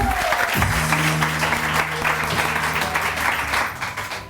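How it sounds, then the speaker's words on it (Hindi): Studio audience applause on a wedding-themed morning TV show, a steady burst of clapping lasting several seconds, fading slightly toward the end. "इन सब के लिए बहुत सारी तालियां।"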